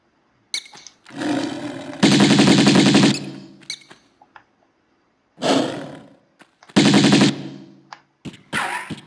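Loud bursts of rapid automatic gunfire in the video game Tomb Raider 1 Remastered come in two pairs, each long rattling volley followed by short pauses and a few isolated shots.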